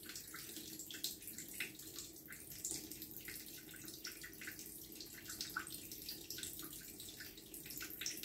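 A tap runs in a thin, steady trickle while a cat drinks from it. Small irregular drips and splashes sound close up over a faint running-water hiss, and no one speaks.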